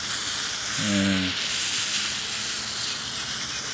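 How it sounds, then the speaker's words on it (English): Sodium metal reacting in water fizzes with a steady, loud, close hiss of bubbling throughout, and one short spoken word cuts in early. "It just kind of starts fizzing and creating bubbles"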